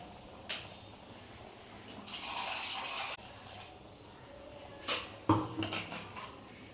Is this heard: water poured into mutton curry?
yes